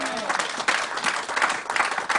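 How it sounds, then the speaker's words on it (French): A congregation at a church service claps and cheers together, a dense, steady wash of applause with crowd voices mixed in, close and fairly loud throughout. "Donnez-moi l'acclamation pour Dieu"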